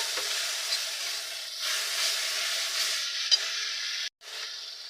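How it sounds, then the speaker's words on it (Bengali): Ginger garlic paste sizzles in hot oil with onion, tomato and green chillies for a katla fish curry. A steady, bright hiss continues close by, with one brief break near the end. "পেঁয়াজটা টমেটোটা ভালো করে তেলের মধ্যে ভেজে এবার দিয়ে দেবো আদা রসুন বাটা"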